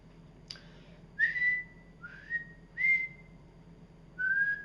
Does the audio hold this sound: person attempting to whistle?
yes